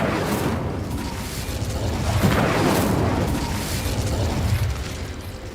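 Incendio fire spell cast in Hogwarts Legacy bursts with a roaring, explosive whoosh that swells in the middle and sustains as a dense crackling rumble throughout.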